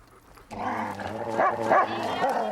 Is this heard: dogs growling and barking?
yes